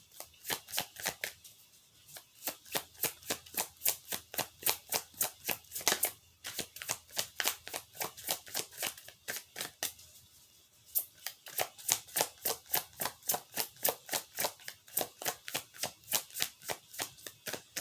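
Tarot cards are shuffled over and over in quick, even bursts, close up and crisp, with a brief pause partway through and no talking.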